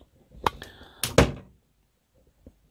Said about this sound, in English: Knock the table. Everyone went flying then.